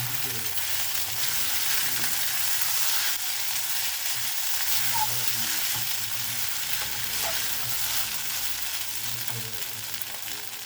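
Soaked sago pearls frying with cooked potatoes in a pan make a steady, close sizzle with soft scraping and stirring throughout.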